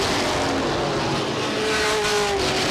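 Race cars at Star Speedway roar off turn four nose to tail, a loud, continuous engine drone with pitch sweeps as the pack passes close by.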